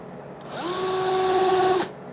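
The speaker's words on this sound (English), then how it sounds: "I'm gonna do drilling on stream for a second." A single short burst from a power drill spins up, holds a steady high whine for just over a second, then cuts off, close and clear, during a guitar pedal build.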